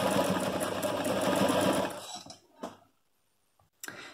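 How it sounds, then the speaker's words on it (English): A sewing machine stitches a men's shirt in a fast, even run of rapid mechanical ticks for about two seconds, then stops, followed by a few faint clicks and handling noises. "you're going to be feeding your fabric, your shirt through this side of the sewing machine"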